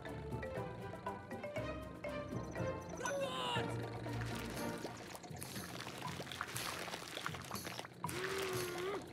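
In the It's Paper Guy video game, a voice imitates a boat noise by mouth, mixed with splashy watery game sounds and excited talking throughout.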